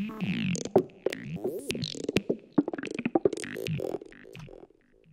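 A Serum synth sample-and-hold lead fed through a noise oscillator, choppy stepped bursts jumping in pitch at an irregular quick rhythm, fairly quiet and alone for about five seconds before cutting off.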